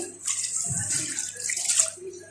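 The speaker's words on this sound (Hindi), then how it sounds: "अब मैं इसमें 1 गिलास के करीब पानी डाल दूंगी" About a glass of water poured into a cooking pot of lauki dalcha, a steady gushing pour lasting a couple of seconds, close and fairly loud with no talking over it.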